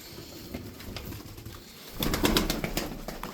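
Several Miro tumbler pigeons coo softly up close, then a sudden burst of wing flapping and fluttering rises and continues busily to the end.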